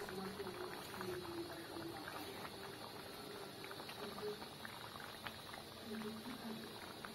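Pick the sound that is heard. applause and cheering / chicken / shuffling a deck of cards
chicken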